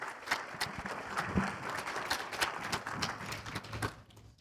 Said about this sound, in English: clap for Colin